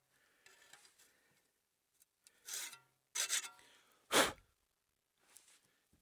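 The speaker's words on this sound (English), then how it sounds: "The hacksaw works great for cleaning rust and brake dust out of here" Hacksaw blade scraping rust and brake dust out of a brake caliper slot on a GMC Yukon, a few short, harsh rasping strokes with gaps between them, close and fairly quiet.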